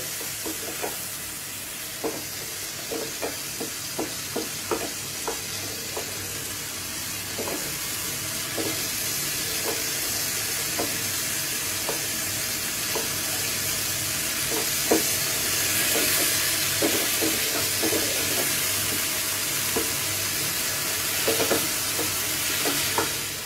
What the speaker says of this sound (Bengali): চিংড়ি মাছটা কিন্তু আমার ভাজা হয়ে গেছে, দেখুন হালকা ভেজেছি